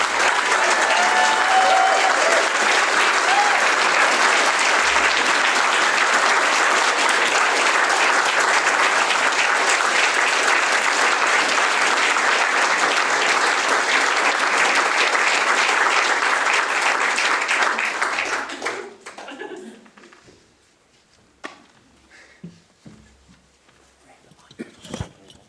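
A large awards-ceremony audience applauds as comedian Dai Henwood is welcomed on stage, with dense sustained clapping for about eighteen seconds that then thins out and fades to a few scattered claps.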